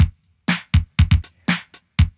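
A programmed drum pattern from a Casio CT-X700 keyboard's built-in rhythms, punchy kicks and snare hits with sparse hi-hat, steady and dry, with no other instruments.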